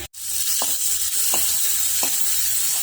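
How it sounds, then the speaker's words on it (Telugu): Dal tempering of mustard seeds, cumin, dried chilli and curry leaves sizzling in hot oil, a loud continuous crackling hiss close up with a few soft stirring clicks, no talk. "ఆవాలు జీలకర్ర వేసానండి, ఎండుమిర్చి చేశాను, కరివేపాకు వేస్తున్నాను"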